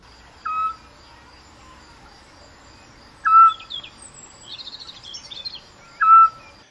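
A Eurasian scops owl gives three short, clear whistled hoots spaced about three seconds apart, with faint insect chirps and other bird notes in a quiet night background.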